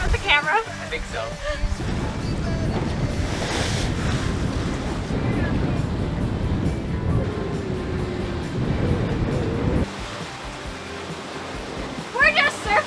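A sailboat surfs through ocean waves at about 8 knots en route to Block Island, with a continuous loud rush of water and wind noise on the microphone throughout, and brief voices near the start and end.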